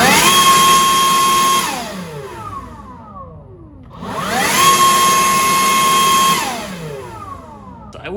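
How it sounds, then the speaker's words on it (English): A Makita 36 volt cordless leaf blower spools up to a high, steady whine, winds down, then spins up and runs again, loud and close with no talking. "now let's listen to the 36 volt blower"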